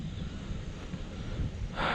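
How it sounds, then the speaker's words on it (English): Wind gusting across an open bean field, a steady broadband rush with low rumbling buffeting against the microphone and a brighter hiss rising near the end, no voices. "It's a little windy today."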